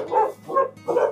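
A dog barks three times in a steady rhythm, loud and close, at a Gujjar Bakarwal herders' settlement in Pulwama district.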